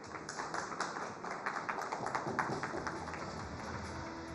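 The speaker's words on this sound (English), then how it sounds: "A big round of applause," An audience at an India Today roundtable in Karnataka claps as a speaker comes on stage. The applause is a moderate, even patter of many hands that holds steady throughout, somewhat distant and without voices.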